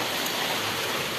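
Heavy rain pours down steadily outside a home, a dense, even hiss of falling water filling the brief moment with no voices.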